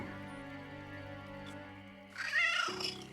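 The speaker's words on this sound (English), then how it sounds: "It's not also uncommon to hear yowling at the witch's room" A cat yowls over a sustained eerie musical drone, a single drawn-out wail rising near the end, used as a sound effect in a ghost story about a witch's room at the Ancient Ram Inn.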